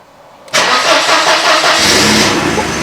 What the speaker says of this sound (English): Haven't started this car in a week because I wanted to see if it'll start